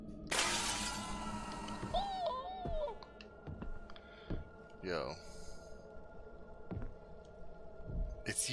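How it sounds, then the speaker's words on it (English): A mirror shatters loudly in the horror video game Visage, a sharp crash with ringing glass, followed by eerie warbling tones, low hum and scattered thuds in a quiet, tense ambience. "So the other mirror is just making lots of noise."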